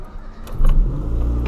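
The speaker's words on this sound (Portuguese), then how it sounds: "Vamos dar a partida aqui no carro." A Ford Fiesta engine cranks and catches with a sudden rise into a steady, close idle rumble inside the car.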